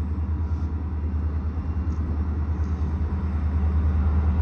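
A Dallas Garland and Northeastern train led by EMD diesel locomotives passes close by, making a steady, deep engine rumble with a low droning hum that holds loud and even throughout.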